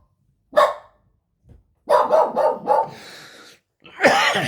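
A dog barks loudly nearby, a single bark followed by a rapid burst of several barks, then a final sharp bark with short pauses between.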